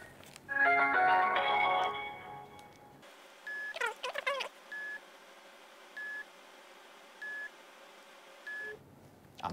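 A phone call being placed: a burst of electronic beeps, then a quick run of dialing tones, followed by several evenly spaced ringback tones that go unanswered against a quiet background.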